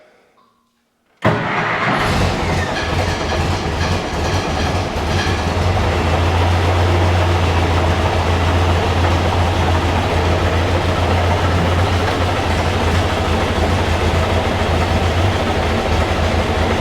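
An Allis Chalmers Model D motor grader engine cranks and catches after a short silence, then runs on in a loud, steady, rumbling roar with no talking over it.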